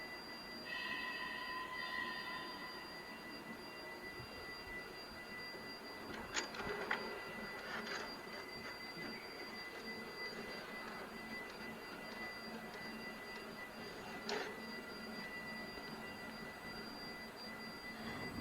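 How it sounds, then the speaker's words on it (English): A printer quietly churns out a Cummins common rail injector test report from a test bench system, giving a faint steady mechanical whir with a few brief clicks and ticks over a low room hum. "You can print the testing results through the printer."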